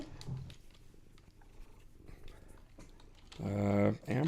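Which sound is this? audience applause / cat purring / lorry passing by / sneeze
cat purring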